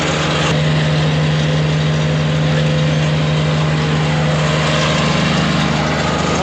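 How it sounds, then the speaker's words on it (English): An electric motor pump runs steadily while filling and emptying crocks of flood water in a farm field, a loud, continuous mechanical drone with a low hum and no pauses, close by and without voices. "This electric motor contained pump filling these crocks,"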